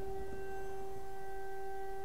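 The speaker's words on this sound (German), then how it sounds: "Hört ihr die Sirene?" A steady siren in the video game Disney Dreamlight Valley, holding a constant tone with bright harmonics for the whole stretch, sounding alone without any voices.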